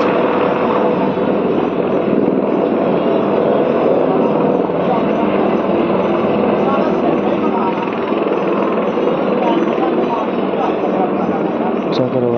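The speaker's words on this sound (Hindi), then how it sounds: "हेलीकॉप्टर लैंड होने वाला है।" A loud, steady rotor and engine roar from a helicopter landing nearby, droning without pause throughout.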